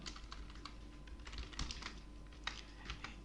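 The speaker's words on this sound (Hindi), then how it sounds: "ये सिर्फ मैं उदाहरण के लिए टाइप कर रहा हूँ।" Typing on a computer keyboard while entering citation details in a document: steady, close, quiet key clicks in irregular bursts, with a few louder taps, no talking.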